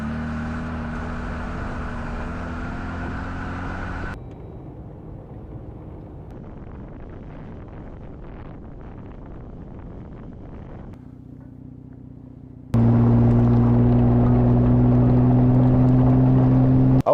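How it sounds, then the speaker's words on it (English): A Jeep drives down a dirt road, heard from a small camera mounted on the outside of the vehicle. Steady engine rumble mixes with wind roar, shifting in tone between stretches and growing loudest near the end. "I'm going to take the Jeep down this dirt road with the GO3 mounted outside"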